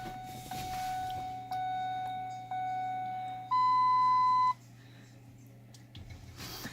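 A Ford Ranger's ignition key turned to on sets off a warning chime, four sustained electronic tones, three at one pitch and a final higher one, each about a second long, over a low steady hum.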